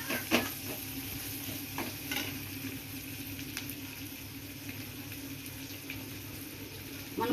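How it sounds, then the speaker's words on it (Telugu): Ginger paste frying lightly in a pan, a soft continuous sizzle with occasional stirring scrapes and clinks, fairly quiet and without talk. "అల్లం పేస్టు లైట్గానే వేయించుకోండి"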